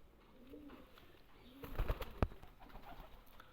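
Teddy pigeons for sale, cooing in soft low rounded calls amid background noise, with a few louder thumps and a sharp knock near the middle.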